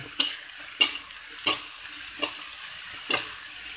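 Sayote (chayote) being stirred in a sizzling pan: a soft fry hiss broken by about six sharp spatula scrapes and knocks at irregular intervals, close and clear with no voices.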